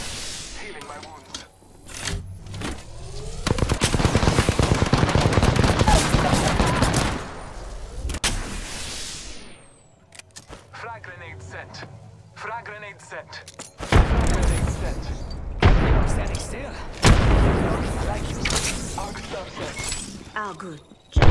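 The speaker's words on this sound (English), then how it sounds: "Listen up, I'm getting shot at!" Loud, sustained automatic gunfire and booming impacts from the Apex Legends video game fill long stretches, broken by brief mechanical clatter and quieter gaps before more volleys and shots.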